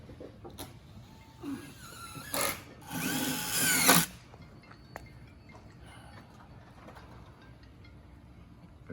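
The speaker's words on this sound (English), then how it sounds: "Drill." A power drill whirs in two short bursts outside on a mobile home roof repair, followed by a longer run of about a second and a half, close and fairly loud, then quiet with faint taps.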